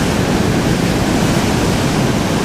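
Ocean waves rolling in at Elliston beach on South Australia's west coast, a loud, steady broadband roar of surf with no break and no voices.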